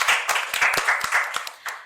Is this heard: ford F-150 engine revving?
no